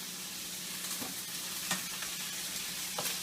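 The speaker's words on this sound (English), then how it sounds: "So I fry all the meat." Beef for a Mexico City mole de olla fries in a pan with a steady, soft sizzle, and a few faint stirring scrapes stand out over the constant crackle.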